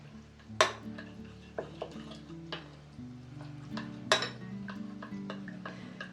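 Vitamin salad is stirred with apple cider vinegar in a bowl, making soft rustling and scraping broken by a few sharp utensil clinks against the dish, near and moderately quiet over a low steady hum.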